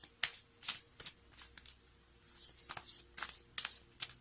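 A deck of cards is shuffled in a series of quick riffling bursts, each with a short flutter of snapping cards, close and quiet with brief pauses between them and no voices.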